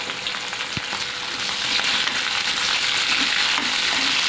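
Green chillies and ginger-garlic paste fry in a pan with a steady, close sizzle that thickens and grows louder partway through, with a soft stir or two and no talking.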